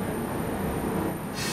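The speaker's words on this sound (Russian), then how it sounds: "Поезд отправляется сейчас же." Cartoon train departing, a steady rumbling rail noise with broad hiss that holds throughout, moderately loud and close, with no voices.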